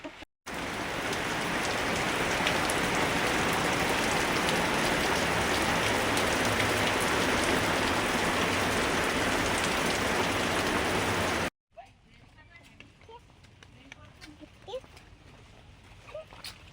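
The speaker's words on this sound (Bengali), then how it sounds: "বারবার বৃষ্টি আসছে" Heavy rain falls steadily at Patharpratima as a dense, loud hiss, then cuts off abruptly, leaving quieter outdoor ambience with scattered light drops.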